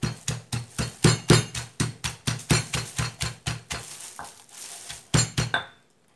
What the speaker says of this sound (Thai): ทีนี้เราก็โขลกค่ะ